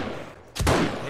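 A single sharp gunshot fires in the survival video game 7 Days to Die, cracking loudly and leaving a brief rumbling tail, with no speech over it.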